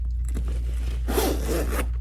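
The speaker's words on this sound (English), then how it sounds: "This zipper here is so cute." Zipper on a Lemaire croissant bag of coated linen canvas being pulled open, a close, smooth continuous rasping slide lasting just under a second after some quieter handling rustle.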